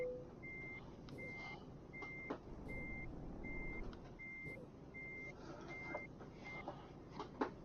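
A truck reverses in Euro Truck Simulator 2, with evenly spaced reversing beeps repeating steadily over a low engine rumble and occasional clicks and knocks.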